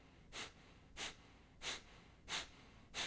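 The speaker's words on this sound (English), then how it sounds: "full exhale, half an inhale, and forceful breath" Five sharp, forceful nasal exhales of Kapalabhati skull shining breath, evenly spaced about two-thirds of a second apart, close and fairly quiet, with no talking.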